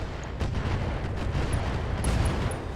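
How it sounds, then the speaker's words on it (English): Continuous rumbling blasts and booms of ammo explosions in the BattleTech mech combat video game, dense and loud throughout, with no voices. "Ooh, another ammo explosion, and that's a dead Shadowhawk."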